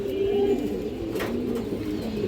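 A male black Bagha pigeon coos in a low, rolling call close by, with a second softer coo trailing after it over steady loft background noise and no talking.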